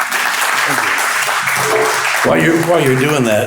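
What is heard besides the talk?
audience applause for a speaker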